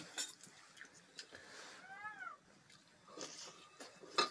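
In a rural village home, a cat gives a single faint meow midway through, surrounded by soft clinks of dishes and quiet, distant voices.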